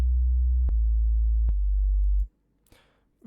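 A stock synth patch, leader type, plays with no amp simulator. A loud, deep, sub-bassy sine-like drone holds for about two seconds with faint clicks, then cuts off and leaves near silence with a brief noisy flick.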